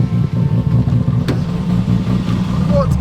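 A JDM car on high boost found on an English farm, its engine droning and revving loudly and steadily while driving, with passengers' voices over the engine noise.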